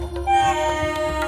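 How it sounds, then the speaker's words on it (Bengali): A cartoon train whistle gives a sustained, bright tonal blast that holds steady for just over a second against a low rumble, fairly loud and alone with no voices. "হঠাৎ শুনতে পেলাম একটা ট্রেনের হুইসেল।"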